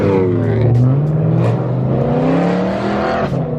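A loud BMW E92 M3 engine revs and pulls through rising gears, close and continuous, with a brief squeal near the end.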